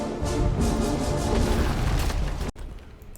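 Ironclad cannon fire sounds in a Civil War naval strategy game, with rolling booms over dense rumbling battle noise that cuts off abruptly, leaving a quieter tail.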